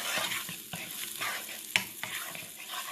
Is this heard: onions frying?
yes